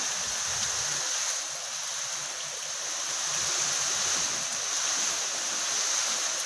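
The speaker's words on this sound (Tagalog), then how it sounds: "Umahampas na yung ulan at saka hangin." Rain and wind from Typhoon Rolly lash outdoors in Cavite, a dense, steady roar of pouring rain and gusts that fills the whole stretch without pause or voices.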